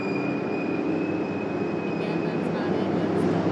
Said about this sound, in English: That's just screeching of another locomotive that is very modern locomotive